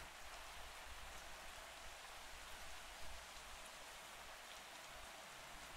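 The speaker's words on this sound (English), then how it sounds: "Look, Daddy, it's raining." Steady rain falls in the video game The Lighthouse, a dense, even hiss of drops on surfaces that holds at a constant soft level throughout with no voices.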